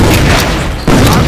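A grenade blast in the tactical shooter Sandstorm: a loud, dense booming rumble filling the short span, with a fresh surge near the end.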